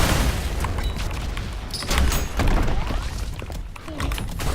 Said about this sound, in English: with the SRS cannon, literally 2 shots I can clear everything in this room